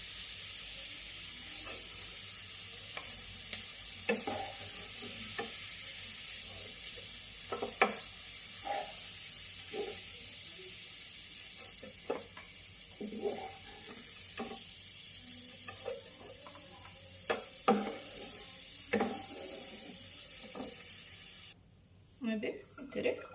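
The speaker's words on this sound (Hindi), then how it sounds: "ଏବେ ପିଆଜକୁ କାଢ଼ି ବସ୍ ମୁଁ ମୋର ରସୁଣ ଆଉ ଅଦାକୁ ଫ୍ରାଏ କରିବି।" Garlic and ginger frying in a pan for a dhaba-style paneer curry, with a steady low sizzle under scattered stirring and scraping clicks from a utensil across the whole stretch.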